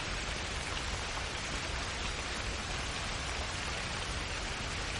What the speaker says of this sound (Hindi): तभी बारिश शुरू हो जाती है।